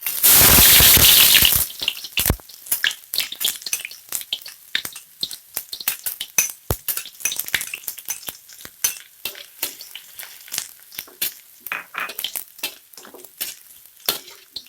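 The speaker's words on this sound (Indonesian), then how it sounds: "ini minyak sudah panas. Kita mulai menumis bawang putih dan bawang merahnya." Garlic and shallots hit hot oil with a loud burst of sizzling, then a steady frying crackle continues under repeated sharp clinks and scrapes of a utensil stirring in the pan.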